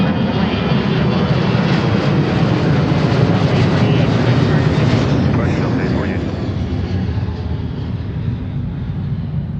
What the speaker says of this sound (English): Skywest 4100, runway 34 clear for takeoff.